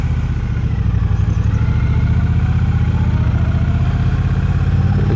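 A 2022 Triumph Bobber motorcycle engine idles steadily up close, a continuous low, even throb with no talk over it.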